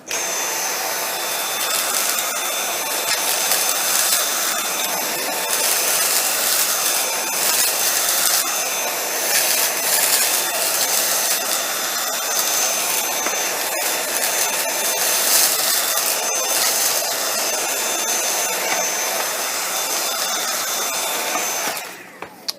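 Dyson V7 Trigger cordless vacuum on low power with a non-motorized combo tool, picking up debris from a tile floor: a steady high-pitched motor whine with gritty rattling pickup, continuous and close, cutting off at the end.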